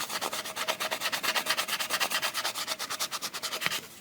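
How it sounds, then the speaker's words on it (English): Rapid back-and-forth scraping of dust and grime off the nut of a Gibson electric guitar, a close, steady rhythmic rasp of about eight strokes per second with no talking. "Let's try to clean some of this ugly off this nut."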